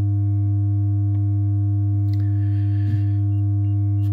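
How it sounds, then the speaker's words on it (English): A Make Noise 0-Coast synthesizer holds a steady, loud near-sine tone at 100 Hz with faint upper partials, droning continuously, with a few soft clicks and small noises in the background. "it's almost a sine wave with a very strong 100 Hertz tone"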